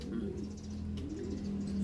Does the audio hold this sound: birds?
yes